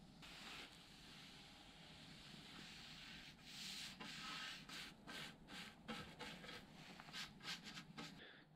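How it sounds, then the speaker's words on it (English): A drill-mounted sanding disc grinding down a wooden canoe paddle, a steady close rasping rub with pulsing surges and brief interruptions, no speech. "one of these sanding discs that goes on a drill. They're just so fast, efficient. So you're gonna grind this down quick"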